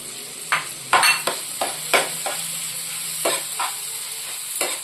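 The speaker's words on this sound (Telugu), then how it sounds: "ఇప్పుడు చింతకాయ తొక్కు వేస్తున్నా" Tamarind pickle is tossed into prawn curry frying in a pan, giving a close, steady sizzle broken by repeated scraping stir strokes, with no voices.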